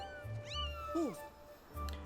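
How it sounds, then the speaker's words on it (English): A small cat meows twice in the video game Skyward Sword, rising and falling calls close and clear over a low background hum, with no talking. "Well, ain't that just the precious little kitty cat in the world?"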